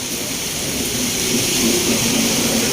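Heavy rain falls on Tepo Road with passing vehicles, making a steady, loud, unbroken wash of noise that holds evenly throughout with no distinct thunderclap standing out.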